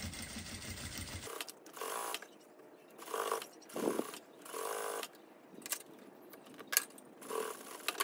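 A sewing machine stitches a clear crystal plastic notebook cover in short separate bursts, each run of stitching a second or less with quiet pauses between, close and fairly soft.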